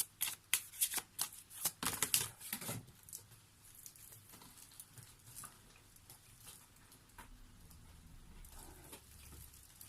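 Tarot cards are shuffled in quick, close bursts of papery riffling and patting for a few seconds, then give way to softer, quieter handling and rustling.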